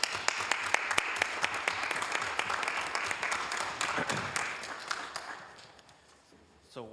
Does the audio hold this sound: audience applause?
yes